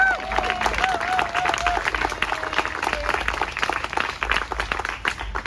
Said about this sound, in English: Give yourselves another round of applause, please.